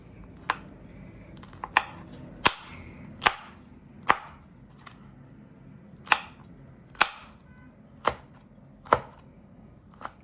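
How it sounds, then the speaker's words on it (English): Knife chopping vegetables finely on a cutting board for a tuna egg veggie platter, about a dozen sharp distinct cuts at an uneven pace, close and clear with no talk. "the theme today really is fine chops"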